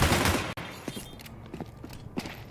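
Gunfire during a professional Counter-Strike 2 match at PGL Cluj-Napoca, a sharp shot landing a headshot kill, followed by a few scattered clicks and footsteps over steady background noise.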